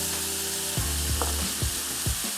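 Sauce added to a hot pan of vegetables for veggie chow mein bursts into a loud, steady sizzle, with a few scraping stir strokes over the frying hiss and no talking.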